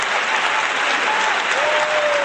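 A loud burst of crowd applause, dense and continuous clapping from many hands, with no speech over it.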